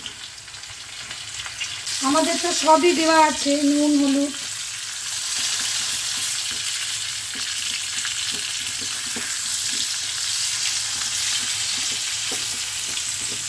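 Flat beans and potatoes fry in a pan, a loud steady sizzle with intermittent stirring scrapes throughout, while someone speaks briefly over it early on.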